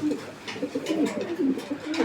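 Big-sized butterfly (prajapati) breed pigeons coo in repeated low throaty phrases nearby, with a faint voice underneath.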